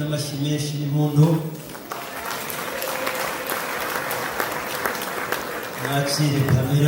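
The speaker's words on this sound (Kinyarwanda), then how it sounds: "n'amashyi menshi n'impundu" A wedding crowd breaks into sustained, dense applause mixed with ululation, following a stretch of talk and leading into more talk, with the clapping loud and continuous across most of the moment.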